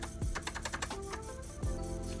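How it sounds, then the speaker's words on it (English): Keys clacking on a Franklin 2100 computer keyboard, a quick burst of several close, crisp strokes followed by a pause and a couple more presses over a low background hum. "Let's see if my keyboard works."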